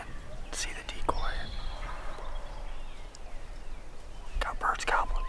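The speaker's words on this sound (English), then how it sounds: "Got birds gobbling." Wild turkeys gobbling in Missouri woods during a spring bowhunt, several distant gobbles in short bursts over low outdoor ambience, with soft whispering nearby.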